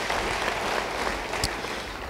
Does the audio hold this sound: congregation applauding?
yes